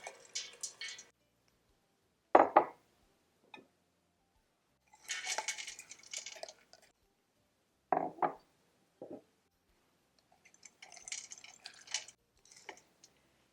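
Frozen corn kernels poured from bags into a large pot holding a cup of water, several separate rattling, clattering pours broken by silent gaps, close and moderately loud, with no talk.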